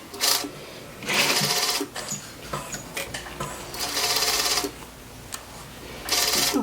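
A sewing machine stitches the neckline of a cowl neck top in four or five loud, rapid whirring runs separated by short pauses with light handling clicks.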